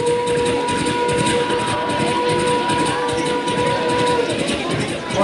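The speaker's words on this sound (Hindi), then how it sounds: "ट्रेन चलती रही।" A running train gives a steady, loud rumbling clatter of wheels on rails that continues unbroken, with a faint tonal whine riding over the noise.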